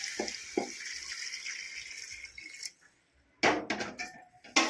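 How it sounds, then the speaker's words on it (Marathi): Hot water is poured into a cooker of steamed chicken for a village-style chicken rassa, giving a continuous splashing pour that stops briefly and then resumes with clattering pan knocks and splashes. "आता त्यामध्ये आपण गरम पाणी टाकू"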